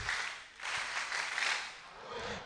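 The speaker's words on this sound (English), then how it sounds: "But keep clapping for her." An audience applauding a guest at a live event, a steady, fairly faint wash of clapping that dips briefly and then carries on.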